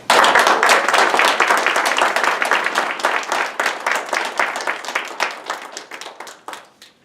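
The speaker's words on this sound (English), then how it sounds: "Please give a round of applause to Dennis Woolridge." Banquet guests applauding a speaker, a loud close burst of many hands that starts full and gradually thins and fades over several seconds, with no talking.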